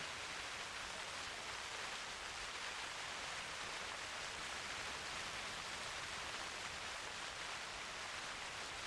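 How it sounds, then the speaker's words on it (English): Steady, soft rain hiss in the hunting video game theHunter Classic, a continuous even wash of falling rain with no other sounds on top. "I wish it would stop raining."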